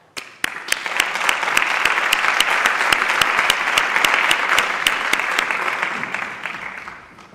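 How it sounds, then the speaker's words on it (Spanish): Audience at a cybersecurity conference applauds to welcome four speakers: sustained dense clapping that starts abruptly, holds steady for several seconds, then tapers off. "demos la bienvenida con un aplauso a los 4"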